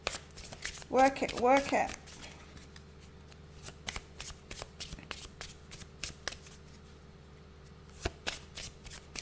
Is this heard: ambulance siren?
no